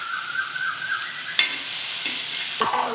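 Matki fry with tomatoes being mixed in a hot pan on a tava, a steady sizzle broken by two sharp scrapes of the spatula, close up with no voices.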